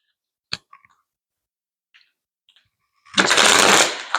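A deck of cards is shuffled in one quick riffle burst near the end, preceded by a few faint clicks and taps, close up with otherwise quiet surroundings.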